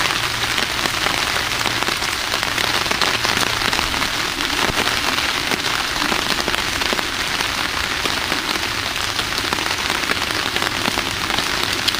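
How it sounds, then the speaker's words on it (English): Steady rain falls through the night on a bushcraft camp, a dense, continuous patter of drops striking nearby surfaces, loud and unbroken with no voices. "I think it's going to rain through the night"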